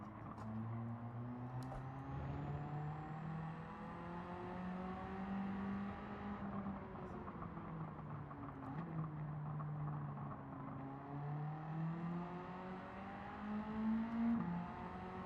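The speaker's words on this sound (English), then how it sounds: "the sound of my engine is like, it sounds like I'm hearing it through a wall or something" A Group A race car engine at Bathurst in Gran Turismo 7 drones muffled and dull, as if behind a wall, its pitch rising and falling steadily through gear changes over a quiet background.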